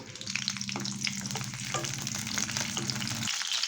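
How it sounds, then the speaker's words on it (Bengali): Garlic and green chillies sizzle in hot oil, a steady close crackle with stirring scrapes, cutting off abruptly near the end. "কাঁচা লঙ্কা রসুনটা হালকা একটু ভেজে নেব"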